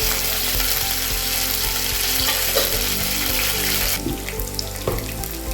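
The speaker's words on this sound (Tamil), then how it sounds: "கருவேப்பிலை வெள்ளைப்பூடு கொஞ்சம் வெங்காயம் நறுக்கி வச்சுருக்கோம் தாளிச்சுக்கலாம்" Steady, dense sizzling of curry leaves, garlic and onion frying in hot oil, with a few clinks and scrapes of a utensil stirring in the pan.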